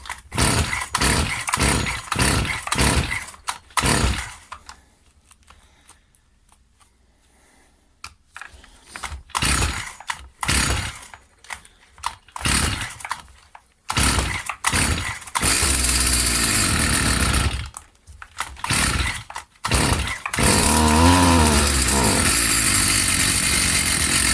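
An old, restored Stihl FS 55 string trimmer sputters through several short, choppy bursts and pauses, then its small two-stroke engine catches and runs loud and close, revving hard under throttle.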